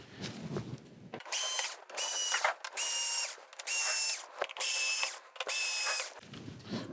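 A power screwdriver backs screws out of the power supply board of an LG 42LE5400 TV, whirring in about five short, evenly spaced bursts, each a bright, close, steady whine with brief pauses between.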